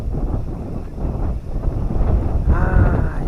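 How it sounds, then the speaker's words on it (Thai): Strong wind gusting across a mountain viewpoint at Phu Thap Boek, loud roaring rumble buffeting the microphone throughout, with a brief tonal whistle in the last second. "ลมแรงมากครับ"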